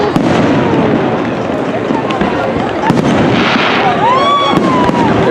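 New Year's fireworks burst over Old Sacramento in loud, crackling, overlapping explosions, with rising whistles near the end and people talking under the din.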